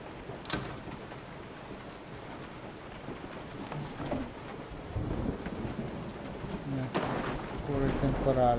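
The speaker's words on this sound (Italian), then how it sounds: "Pure il temporale ci mancava." Thunderstorm with rain in the survival horror game Resident Evil 7, a steady wash of rainfall with a sharp thunder crack early and deeper rolling rumbles building toward the end, fairly quiet overall.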